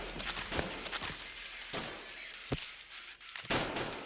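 Video game gunfire in a sharp, fast burst of shots followed by scattered single cracks and a final cluster, loud and close with no talk.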